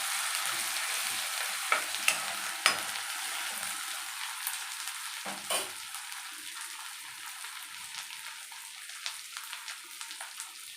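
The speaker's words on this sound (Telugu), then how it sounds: "అల్లం పేస్ట్ వేసుకోవాలి. పచ్చి వాసన వెళ్ళేంత వరకు ఒక్కసారి కలుపుకోవాలి." Ginger paste being stirred in a hot pan of oil for an egg and flattened rice snack, a steady soft sizzle with occasional scraping clicks of the spoon against the pan.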